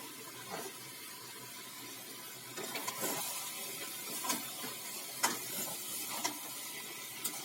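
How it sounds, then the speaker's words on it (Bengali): Hot water poured into a pot of fried chicken pieces for a chicken and potato curry, a steady hissing splash with soft intermittent knocks and sharp clinks from the pot. "মাংসটা ভাজা হয়েছিল ওর মধ্যে একটু গরম জল দিয়ে দিচ্ছে"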